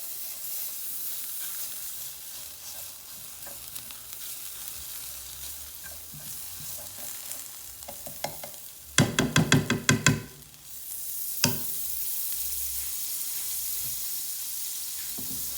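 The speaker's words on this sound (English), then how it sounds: "this is the stage where I add a little bit more butter for the egg. Pop that in the middle" An egg is fried in butter over low heat in a pan, giving a soft continuous sizzle with a cluster of sharp clatters and scrapes midway and a single knock afterward.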